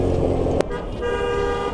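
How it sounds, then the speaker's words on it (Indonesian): Car horns honk in traffic: a loud bed of engine rumble, then a sustained, steady horn tone that holds from just past half a second to the end. "Ya, kok klakson aja semua orang."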